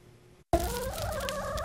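Poultry at a backyard farm run by a school club in Wayne County: a sudden burst of loud, continuous gobbling and clucking from several birds close by, starting after a brief quiet moment.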